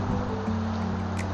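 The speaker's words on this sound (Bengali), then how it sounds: "জলধারা বয়ে যাওয়া যে একটা কুলো কুলো ধ্বনি" Water in a small stream with ice sitting on its surface flows in a continuous, even murmur, close and steady, with a low droning hum underneath.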